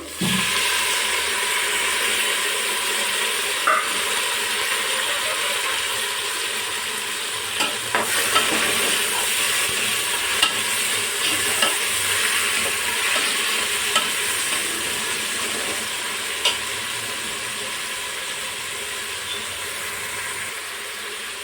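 Duck curry gravy with tomato sautés in a pan: a steady, close sizzle runs throughout, with occasional stirring scrapes and clinks and no talking.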